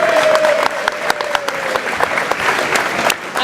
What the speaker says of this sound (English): can we get a big round of applause, please, for Katie?